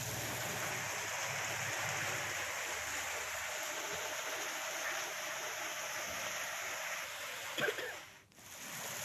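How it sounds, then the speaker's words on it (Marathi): Heavy monsoon rain and floodwater rush steadily in low-lying parts of Raigad district, around Khopoli and Karjat. The broad, continuous hiss is fairly faint and even, with a brief bump and dip near the end and no talk. "सकाळपासून मुसळधार पाऊस सध्या बरसतोय"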